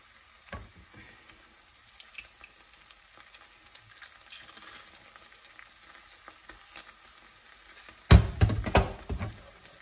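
Garlic frying in a pot over a gas burner, a faint steady sizzle for most of the time, then a loud burst of hissing and crackling near the end as more food hits the hot oil.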